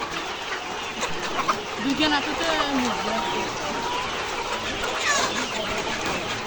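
Layer chickens cluck and squawk at a poultry farm in a loud, busy chorus, with scattered flapping and some voices talking nearby.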